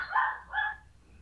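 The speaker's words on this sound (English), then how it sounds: "He's bad for barking." A small dog, a Pomeranian Chihuahua mix, gives two short, high yappy barks in quick succession, fairly close and moderately loud, with no talking.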